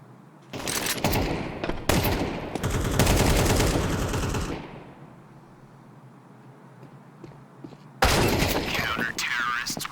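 AK rifle bursts in a Counter-Strike match come in rapid, loud volleys, then a quiet stretch before another dense spray of shots; commentators speak over the action.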